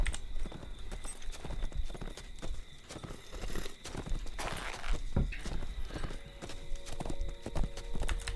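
Hoofbeats of a war steed galloping in the online game Lord of the Rings Online, a dense rapid clip-clop that keeps going, loud and close, with a brief whinny amid game effects.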